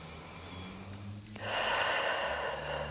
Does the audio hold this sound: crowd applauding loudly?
no